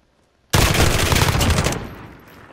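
A light machine gun in Call of Duty Modern Warfare opens up in a sudden, loud, sustained burst of rapid gunfire during a gunfight tournament match, then fades into a lingering echoing tail.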